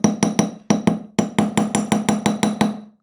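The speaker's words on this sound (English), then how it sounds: "I'm just going to hammer the tail, the back of the tail" A hammer strikes the back of a wire fish tail resting on a table edge. A dozen sharp metallic taps land in quick, uneven bursts, loud and close with no talk.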